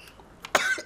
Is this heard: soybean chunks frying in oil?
no